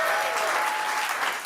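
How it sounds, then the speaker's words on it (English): A room applauds comedian Mo Rahman at a stand-up comedy night, a dense, continuous burst of clapping with faint crowd murmur beneath it. "This is sympathy applause right now."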